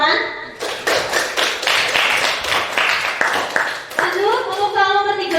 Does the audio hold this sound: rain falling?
no